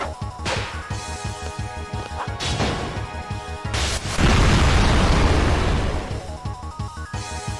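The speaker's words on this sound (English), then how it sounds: "It exploded and is dead." A monster blowing up in a Final Fantasy VIII battle, a heavy crashing explosion that bursts out midway and rumbles for a couple of seconds over rhythmic game music and earlier whacking hits.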